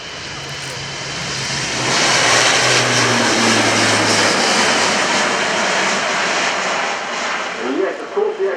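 A four-engine turboprop aircraft performs a display at the RIAT airshow at Fairford, its engines roaring loud and broad as it passes, swelling and then holding steady before easing slightly.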